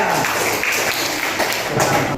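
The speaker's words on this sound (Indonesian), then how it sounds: "Tepuk tangan untuk Panda." Classroom applause for a student during a mathematics lesson: steady, dense clapping from a group of pupils, fairly close and loud, continuing without a break for a couple of seconds.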